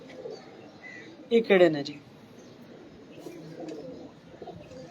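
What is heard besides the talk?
pigeons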